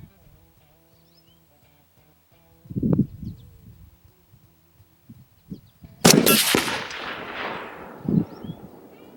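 Rifle shots are fired at a metal target about 200 yards off. A sharp report comes first, then a louder crack with a lingering rumble and a faint later impact, over quiet outdoor background.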